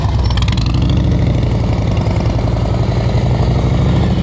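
Motorcycle engine held steadily under throttle during slow-speed riding practice, a loud continuous mid-pitched drone with no break throughout.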